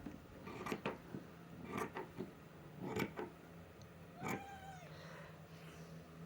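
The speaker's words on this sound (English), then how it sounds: "Yes, the cat is yelling at me." A cat meows and yowls insistently several times in a quiet craft room, with silk being cut nearby; the calls come in loud, drawn-out bursts over soft background noise.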